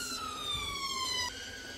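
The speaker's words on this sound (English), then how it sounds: "Sorry, there was an ambulance going by," An ambulance siren wails steadily as the vehicle passes nearby, loud and continuous with a slowly falling pitch, then dropping away in level toward the end.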